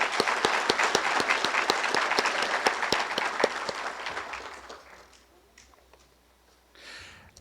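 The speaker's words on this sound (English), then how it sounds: "Please join me in giving these distinguished graduates a round of applause." A graduation crowd gives a loud, sustained round of applause for the graduates, dense clapping with sharp individual claps on top that fades away after about five seconds, followed by faint room noise and a brief rustle.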